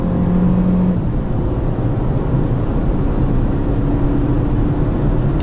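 A Lada Niva engine revs hard at full throttle while driving, a loud steady roar with a rising whine that holds throughout, no speech over it.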